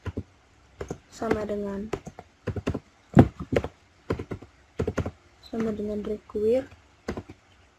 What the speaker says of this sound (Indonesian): Selanjutnya di sini kita ketik var readline